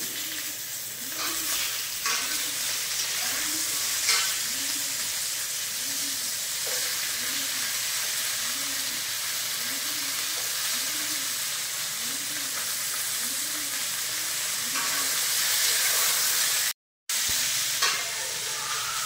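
Chopped flat beans and potatoes fry in a pan. The sizzle is loud and steady, with soft rhythmic stirring scrapes throughout and a brief cut near the end.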